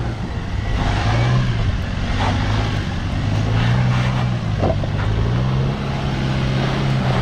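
A two-wheel-drive vehicle grinds up a steep off-road slope, its engine droning loud and steady with rising and falling pitch as it strains uphill, wind and rumble filling the background.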